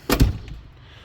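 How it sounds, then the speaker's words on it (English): The door of a restored Ford F-250 pickup shuts close by in a single solid thunk, with a short double impact that fades into quiet. "The door's shut"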